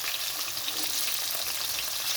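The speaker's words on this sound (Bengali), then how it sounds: "এখানে আলু ভেন্ডিটা একটু ভাজা হয়ে গেছে" Potato and okra frying in a pan, a bright, dense, continuous sizzle heard close up and steady throughout, with no voices.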